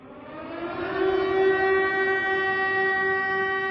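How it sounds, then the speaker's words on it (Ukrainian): A civil defense air raid siren in Ukraine, sounding as a public warning drill, wails steadily, its tone rising and then holding loud and sustained, with no voices. "у багатьох містах України лунала сирена 23 лютого 2022 року"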